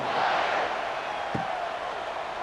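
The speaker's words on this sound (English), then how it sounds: "you think this crowd's going to get loud when their defense comes on the field?" Broad roar of a stadium crowd in College Football 26, a steady wash of massed voices cheering at moderate loudness with a brief thump partway through.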